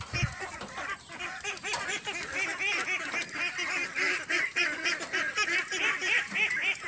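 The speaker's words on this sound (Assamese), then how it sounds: "হাঁহকেইটা ইমান কান্দি আছে কেলে" Ducks quack loudly and continuously close by, a dense, overlapping chorus of honking calls with no pause and no one talking over it.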